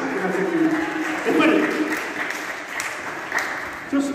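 Audience applause at a magic gala in a cultural center, a mid-level burst of clapping mixed with children's voices and chatter, swelling briefly and then thinning out.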